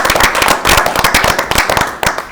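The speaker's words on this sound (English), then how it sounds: "I guess we applaud a little bit at this point." Brief applause at a county board meeting after a motion carries, a loud, close burst of sharp, rapid clapping from a small group in a meeting room.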